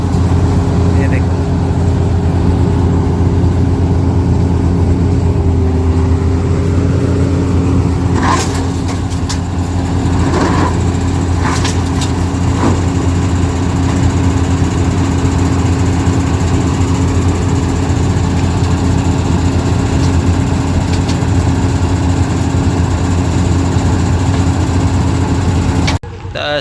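A farm thresher engine runs loud and close in a steady, unbroken drone, with a few faint clanks partway through and a voice talking over it.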